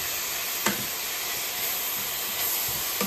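Sliced leek frying in oil in a pan, a steady broad sizzling hiss with a few brief stirring clicks, close and even throughout.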